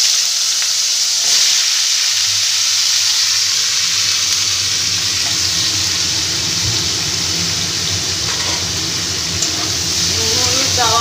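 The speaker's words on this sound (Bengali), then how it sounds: "চিংড়ি মাছ ভাজা তেলে আমি এই সেদ্ধ করা এঁচোড়গুলোকে ভেজে নিচ্ছি" Boiled green jackfruit frying in oil left over from frying shrimp, a steady, close sizzling hiss that runs the whole time with a few light clinks of stirring.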